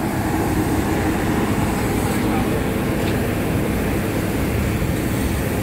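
A train led by the CT273 steam locomotive runs on the Hualien–Taitung line with a heavy, continuous rumble that stays loud and close throughout.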